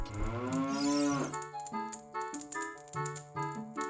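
A cartoonish cow moos in Ocarina of Time, one long harmonic low that swells and bends upward, then a quick run of short, chirpy game text-blip beeps sounding in a steady patter.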